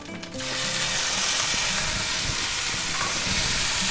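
Minced garlic dropped into a dab of hot oil in a pan: a sudden burst of loud, bright sizzling that settles into a steady, close hiss.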